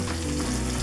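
Caramelizing onions sizzle and fry steadily in a pan for rice with caramelized onions, a close, continuous crackling hiss with no talk.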